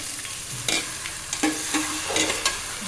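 Green beans with turmeric and curry leaves are stirred in a pan, giving several close scrapes of a spoon over a constant soft sizzle of frying.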